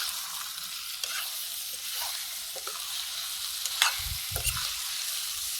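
Cauliflower vegetable curry stirred and fried in a pan, with a soft steady sizzle and occasional scraping stirs near the end, fairly quiet and close, with no talking.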